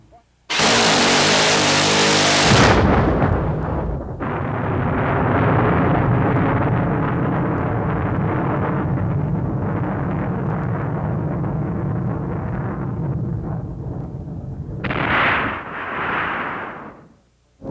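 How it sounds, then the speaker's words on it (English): A battleship's CIWS rapid-fire Gatling gun lets off a loud, ripping burst lasting about two seconds, followed by a long, heavy rumbling roar and a second brief surge near the end. "it's a rapid-fire machine gun, basically, like a Gatling gun"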